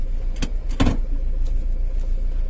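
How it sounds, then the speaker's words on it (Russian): Car power windows opening on a warm day: a short electric motor whir over steady engine idle, followed by a quieter cabin hum. "открываем окна"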